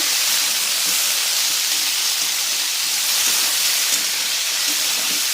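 Two medium potatoes, diced into small cubes, fry with onions in a pan, giving a loud, continuous close-up sizzle and hiss that holds steady throughout.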